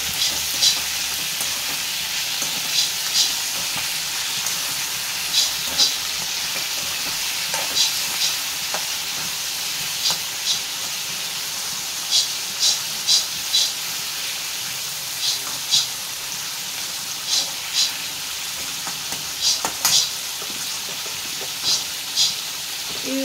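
Tomatoes for peanut pachadi chutney cook in a pan, a steady sizzling bed with regular soft stirring scrapes and taps throughout, close and fairly loud, with no talking.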